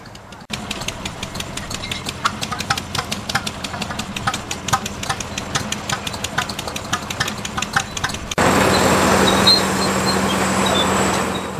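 A mid-1970s Ford 7600 tractor with a quiet cab runs with a steady, knocking diesel idle at a tractor show, followed by a louder, broadband rush near the end.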